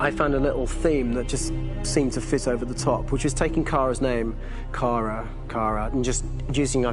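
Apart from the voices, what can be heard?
No distinct noise like a dog, phone or traffic.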